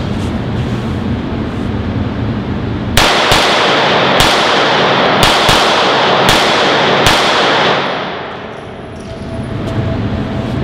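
A Walther PPK/S pistol in .380 fired at a range, about seven sharp loud reports in fairly quick irregular succession over a noisy background that fades after the last shot.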